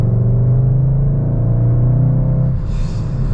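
Engine of a manual Skoda Octavia RS Estate drones steadily as the car slows toward 2500 RPM, a loud low rumble that eases off and softens near the end, with no one talking.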